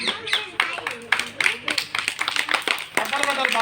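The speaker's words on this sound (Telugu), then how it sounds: "అందరూ చప్పట్లు కొట్టాలి" Children in a classroom clap in irregular bursts of sharp claps under an adult talking.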